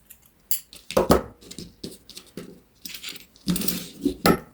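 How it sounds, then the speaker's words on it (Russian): Scissors snip through cotton twine thread while making a summer backpack, giving a string of quiet, sharp metallic clicks and cuts in irregular bursts, with no talking. "Теперь нить обрезаю подлиннее."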